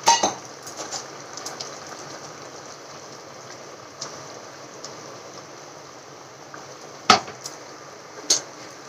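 Metal spoon stirring mustard paste into a vegetarian mixed vegetable and greens dish in a pan: soft scraping and sizzling throughout, with a few sharp clinks against the pan near the start and later, no talk.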